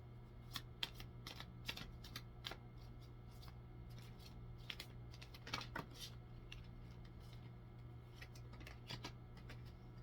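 A deck of cards being shuffled up close, a quick series of papery riffles and flicks repeating in bursts over a quiet background hum.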